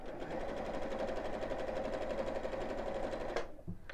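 A sewing machine runs steadily, stitching around a small felt Easter decoration, with a fast, even whirring rhythm close by that stops abruptly near the end, followed by a brief handling knock.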